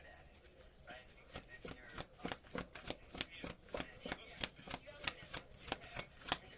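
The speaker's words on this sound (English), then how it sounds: "I want to flip out one more card and see if one with arms comes out." Tarot cards shuffled by hand nearby, a quiet rhythmic run of crisp riffling snaps repeating steadily for several seconds.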